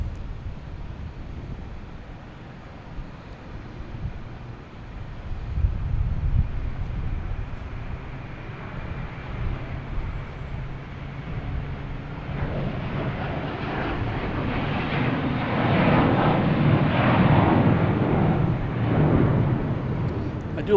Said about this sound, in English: I do like this location because you get the full jet sound when it takes off going by here.